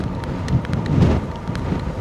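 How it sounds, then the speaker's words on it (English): Gusty wind in northern Norway, near the Arctic Circle, buffets the microphone, a low rumbling roar that rises and falls without any voices. "but very windy again"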